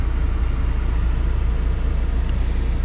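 A 2008 Saturn Sky Redline engine idles steadily just after its first start following a battery change, a low, even rumble close to the microphone with no talk.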